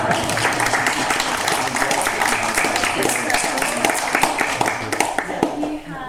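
An audience at a museum curator's talk on the painter Oscar Bluemner claps for the speaker in a steady, close round of applause, with a few voices mixed in.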